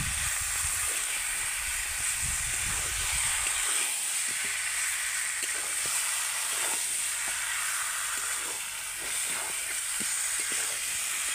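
Chicken pieces being stirred and fried in a spice paste, with a steady close sizzle and hiss throughout and occasional scraping as the meat is turned, no talking.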